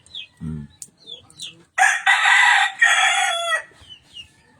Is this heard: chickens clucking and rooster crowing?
yes